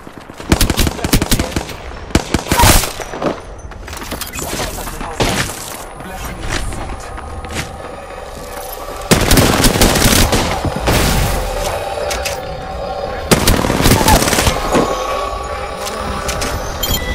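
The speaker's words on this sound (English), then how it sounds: "Shots fired, and they're hitting me." Gunfire in the video game Apex Legends: loud, repeated bursts of automatic fire with sharp, cracking shots, building into dense sustained volleys in the later half over a continuous background rumble, with no voices.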